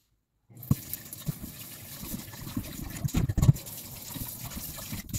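Running tap water splashing over fish being washed in a kitchen sink, a steady gushing stream with intermittent louder splashes and handling noises, close by and without speech.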